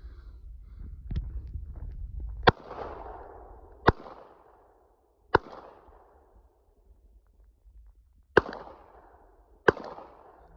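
A TP9SF 9mm pistol fires at a shooting range, giving five sharp, loud single shots spaced one to three seconds apart, each trailing a short echo, with quieter handling noise before the first shot.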